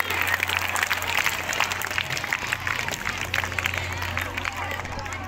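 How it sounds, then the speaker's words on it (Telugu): An audience at a school prize-giving event claps steadily and loudly throughout, a dense continuous applause with crowd murmur and a low steady hum beneath. "గట్టిగా చప్పట్లు పెట్టిన వారికి."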